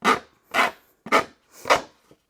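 Four rough scraping strokes, evenly spaced and close up, each a short rasping burst as the edge of a paper file folder cover is roughed up.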